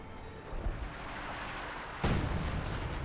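Artillery strikes in Company of Heroes 2 land as a muffled boom, then a heavier blast that leaves a rumbling tail over the battle din.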